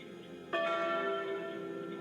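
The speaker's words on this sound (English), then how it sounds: "pull the tea time bell." Tea time bell pulled in a Wallace and Gromit video game, a single bright ringing strike that sustains and slowly decays, clear and close over a quiet background.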